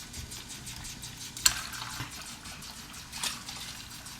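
Water trickles and splashes steadily, with a couple of brighter splashes standing out along the way.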